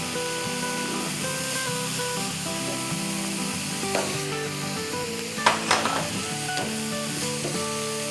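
Green chili rings tossed into ginger, garlic and onion frying in coconut oil for fish cutlets give a steady, loud, close sizzle, with a few sharp spatters and pops midway.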